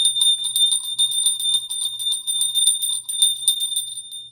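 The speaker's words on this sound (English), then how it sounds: "Here's a run for your life bell." A bright metallic warning bell rings continuously in rapid, rattling bursts, loud and close, its clangs repeating without pause for several seconds with no voices over it.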